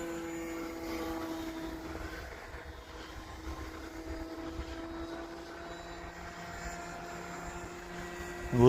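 An RC Sbach plane flies inverted at low rates in cold winter weather, its engine a steady, fairly faint distant drone that holds even throughout.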